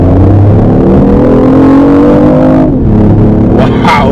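A BMW i8 in sport mode accelerates hard, its loud engine droning with rising pitch, briefly dipping around a gear change before pulling on, close and steady with no talk.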